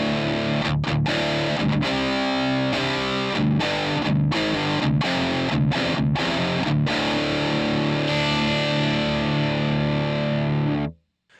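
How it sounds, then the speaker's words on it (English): Electric guitar played through a Benson amp with light overdrive, about halfway on the drive, chords and single notes ringing out steadily, close and loud, ending with a sudden cutoff. "So George, give us a little something with what the amp sounds like."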